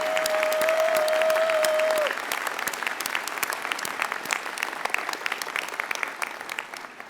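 A graduation convocation crowd in the stands at the University of Calgary bursts into sustained, dense applause and cheering. A steady whistle-like tone rings over the first two seconds, then the clapping continues evenly and fades slightly at the end.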